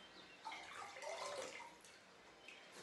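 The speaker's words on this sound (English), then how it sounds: "So just listen to the sound that the water makes." Water splashing and dripping in a sink or bath, soft and faint with gentle irregular trickles and small splashes close by and no talk.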